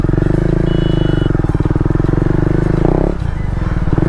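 KTM Duke motorcycle engine during a wheelie attempt, a loud, close, throbbing exhaust that pulses steadily, then cuts off sharply near the end before picking up again.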